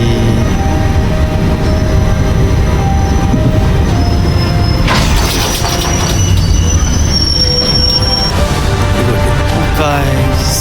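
A train pulls into Songadh station with a loud, continuous rolling rumble. Sharp wheel squeals rise and fade over it as it slows, heard from on board.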